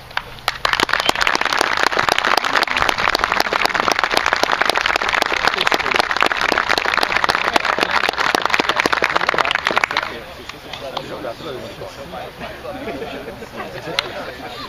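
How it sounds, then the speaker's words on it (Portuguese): Audience applause at the opening of a school sports tournament, dense clapping for about ten seconds that then drops away, leaving quieter room noise and scattered voices. "E nós queremos aplaudir e reconhecer."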